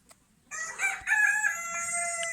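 A rooster crows once, loud and close, in a drawn-out cock-a-doodle-doo with rising and falling calls after a brief quiet start, heard on a property with newly hatched chicks.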